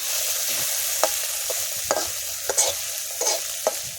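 Small shrimp frying in a pan, a steady sizzle beneath repeated scraping strokes of a spatula stirring them at close range.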